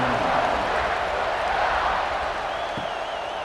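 College football stadium crowd from the Ohio versus Ohio State game after a score, a steady dense roar of many voices and cheering, loud and continuous throughout.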